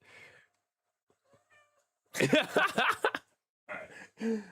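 A house cat gives a loud, close meow lasting about a second, then two shorter meows. Quieter voices are heard at the very start.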